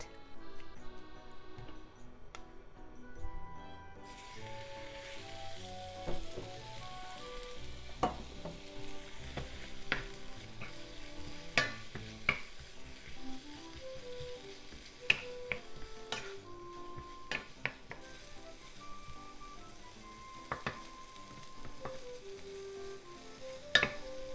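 Steady sizzle of squid frying in vegetable oil in a pan over medium-high heat, with scattered sharp pops and crackles and occasional utensil clicks, fairly close and continuous throughout.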